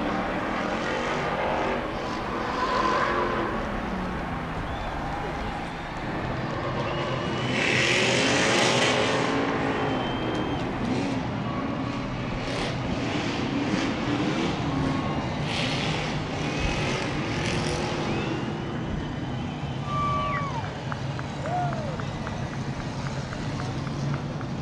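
Race cars at the Long Beach street race roar past in waves, engines rising and falling near and far, with an announcer talking over a loudspeaker and crowd noise throughout.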